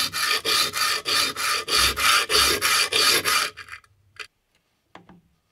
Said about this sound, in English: The parting blade leaves a nasty burr, which I had to remove with a scraper before sanding it flat and even.